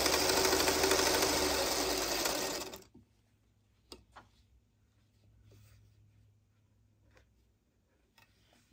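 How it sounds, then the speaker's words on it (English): A sewing machine stitches quilt block fabric in one loud, steady, rapid whirring run that stops abruptly after about three seconds, followed by quiet handling of fabric with faint clicks and rustles. "I'm going to sew the other side"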